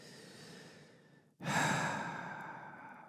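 A deep, slow breath during a stretch: a soft exhale fades out, then a fuller, louder inhale or sigh follows and tapers gradually, close and intimate.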